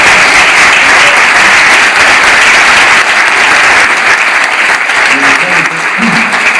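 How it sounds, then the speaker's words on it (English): A large audience at a Dick Van Dyke book signing in New York applauds loudly and continuously, a dense, close wash of clapping that fades slightly toward the end. "I think you can tell by the applause"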